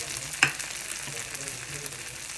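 Uttapam batter topped with onions and green chillies frying on a hot oiled pan, a steady soft sizzle with one brief sharper crackle near the start, moderately close and faint throughout.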